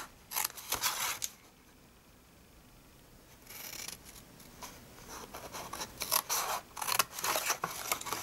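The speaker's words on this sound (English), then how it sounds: "So with your snips, we're going to snip away this skinny little part here." Metal snips cut through a paper gift bag in several bursts of quick, crisp snipping, with a quiet pause between the first cuts and a denser run of snips near the end.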